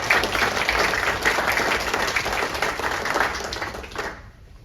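A city council meeting audience gives a sustained round of applause, dense and fairly close, holding steady for about four seconds before cutting off abruptly into near silence.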